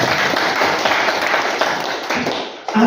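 An audience at an evening entertainment event claps together in a dense, sustained burst of applause that stops abruptly near the end.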